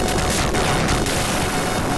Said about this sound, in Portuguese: Esse tiro de fogo é muito bom. Leva todo mundo.